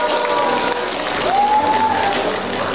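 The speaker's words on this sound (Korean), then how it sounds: "영동군의회 의장님께 다시 한번 큰 박수 부탁드리겠습니다" A crowd applauds steadily and fairly loudly at the opening ceremony of a local residents' program contest held at a wine festival venue in Yeongdong, with continuous clapping filling the whole moment and no speech over it.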